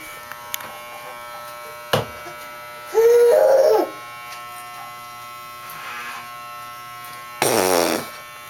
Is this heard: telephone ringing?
no